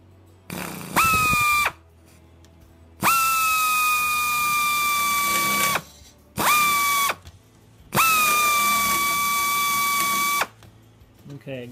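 Close, high-pitched whine of a drill spinning a countersink cutter into aluminum, four separate bursts that rev up, hold steady and stop, with quiet gaps between.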